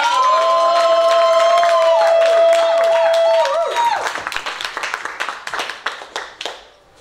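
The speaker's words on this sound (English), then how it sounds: "please make some noise for your sacrificial poet, JR the Proofrock!" An audience at a poetry contest during an arts festival breaking into applause and cheering, with loud whoops and shouts over steady clapping that thins into scattered claps and fades out.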